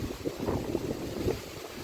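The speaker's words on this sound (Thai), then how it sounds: "ฝนลมมาเลยพี่น้อง" Wind gusts and rain rush steadily outdoors at a fishing spot, a dense broadband roar with soft buffeting against the microphone and no voices.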